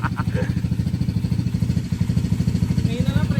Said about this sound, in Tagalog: Sorry, makina malakas.